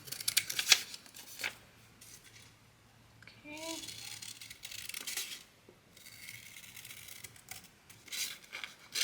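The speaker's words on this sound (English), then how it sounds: "You're just going to cut out the cup template." Scissors snip a paper cup template for a teacup bookmark craft, giving quiet, intermittent cutting and rustling with short bursts of paper noise and brief pauses, close by.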